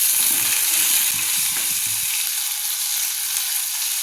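Dry fish and brinjal sauté with a little salt in a hot pan, giving a steady, close hiss of frying with a few soft low knocks early on and no talking.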